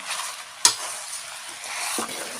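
Chicken for Pallipalayam chicken frying with a steady sizzle while a utensil scrapes and stirs the pan, one sharp clink near the start.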